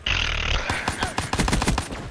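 Rapid pistol shots in Black Ops III multiplayer crack out in a quick burst of sharp, loud reports with game sounds behind them.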